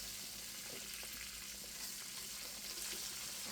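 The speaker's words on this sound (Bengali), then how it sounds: "এখন আমি মাছটা খুব সুন্দর করে উল্টে পাল্টে ভেজে নিচ্ছি" Fresh tengra fish frying in a pan, a dense, loud and continuous sizzle with scraping and stirring noises as the pieces are turned, close up and without speech.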